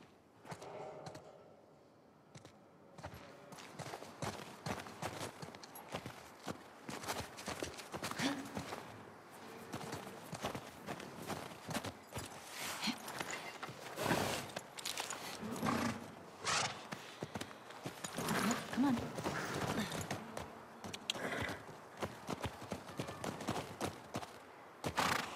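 Horses' hooves in The Last of Us 2, a steady run of clip-clop steps on the ground, fairly close, with faint movement and ambient noise around them and a soft quiet start.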